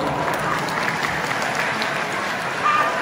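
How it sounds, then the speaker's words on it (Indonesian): An audience applauds in a dense, continuous clatter of clapping that keeps an even level for a few seconds, lifting briefly near the end. "Tepuk tangan buat ke ini."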